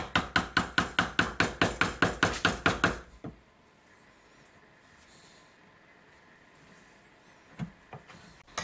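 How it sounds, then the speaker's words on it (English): A rapid, even series of loud metallic hammer blows on a steel pipe being bent into a U shape, about fifteen strikes in three seconds, then near silence with a couple of faint knocks. "hammering the pipe into an U shape"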